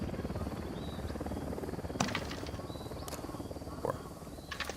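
A Mi-17 Hip helicopter in a Vietnam-themed combat video game gives a dense, continuous rotor thrum close by, with brief higher bursts of other game sounds breaking in now and then.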